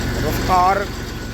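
Massey Ferguson 35 tractor engine running steadily nearby, a continuous low mechanical drone under loud speech throughout.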